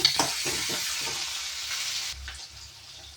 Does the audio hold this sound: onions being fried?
yes